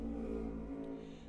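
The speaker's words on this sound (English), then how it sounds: "And that was a motorcycle, if you could hear it." A motorcycle engine in World of Warcraft gameplay gives a low, steady droning rumble with a slight rev, running briefly at moderate volume with no talk over it.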